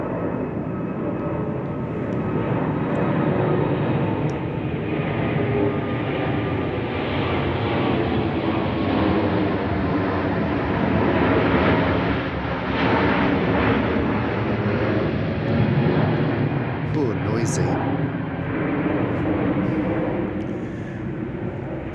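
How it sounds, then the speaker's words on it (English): A large airplane passes low over a suburban garden, its deep engine roar holding loud and steady for around twenty seconds before easing off, with no voices. "God, more planes. That's a big one."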